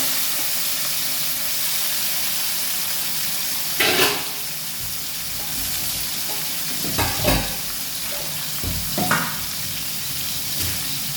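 Shrimp fry in hot oil in a pan, a steady close sizzle and hiss broken by a few sharp spatters and scraping stirs, with no talking.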